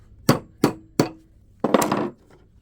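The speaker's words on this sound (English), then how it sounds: "We're going to use our new Klein hammer." A new Klein hammer at work pulling a nail: three sharp, close metallic knocks in steady succession, then a brief gritty scrape as the nail draws out, all in a quiet room.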